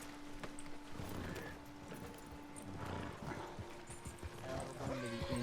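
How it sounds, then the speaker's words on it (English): Horse hooves clip-clopping in the RedM video game: irregular hoof clops on the ground at moderate distance, fairly quiet, mixed with other game ambience and brief snorting sounds. "I'm just gonna hitch my horse up here."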